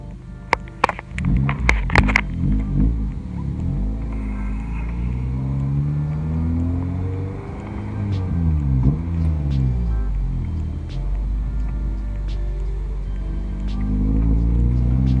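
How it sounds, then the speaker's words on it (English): A naturally aspirated K20-engined FN2 car engine hums steadily from inside the cabin, rising and falling with gear changes, with a few clicks at the start. "I'm just gonna go for a quick little drive, feel how the car feels"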